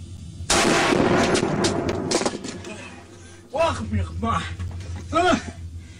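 Gunfire from the Battlefield Zero Hour update, a loud burst of shots at the start followed by sporadic cracks, with a person talking over the later part.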